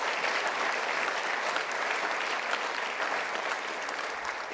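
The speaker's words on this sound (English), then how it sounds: "Yes, let's give him a round of applause." A large audience applauds at the 2019 Ethnic Business Awards gala presentation dinner, a sustained, even roar of many hands clapping with no voices on top.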